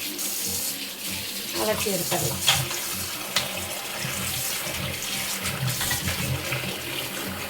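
Tap water runs steadily into a bowl while tiger prawns are washed, a continuous close splash with a few clinks of handling, and a voice speaks briefly over it.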